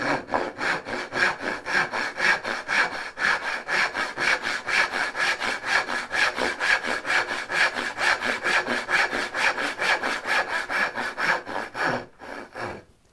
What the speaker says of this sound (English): That's a really hard cut to make.